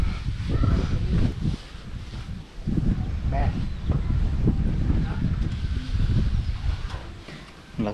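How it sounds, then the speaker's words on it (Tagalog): Strong wind blowing outdoors near a garden with banana plants, a loud steady rushing roar buffeting the microphone while people talk over it. "Lakas ng hangin."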